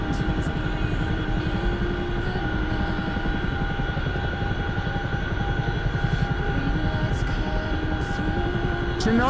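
A Chinook twin-rotor helicopter in a flight simulator, a steady loud rhythmic rotor thump over a constant turbine whine and hum, continuous and close throughout.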